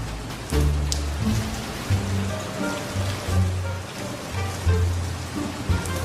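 Steady rain falls in a continuous, fairly loud hiss, with soft low tones running beneath it throughout.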